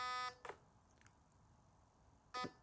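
A Novritsch SSR90 airsoft gun in programming mode gives short electronic beeps, a clear burst at the start and another near the end with fainter blips between, quiet and close.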